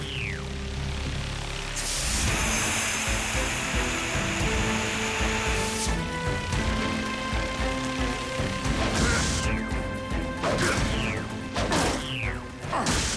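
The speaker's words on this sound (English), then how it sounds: "Smashing them seems to work pretty well." Probe robots being smashed in a Transformers: Rescue Bots cartoon: loud crashing metallic impacts and whooshing swipes over a busy, dense soundtrack, with sweeping tones and repeated hits across the scene.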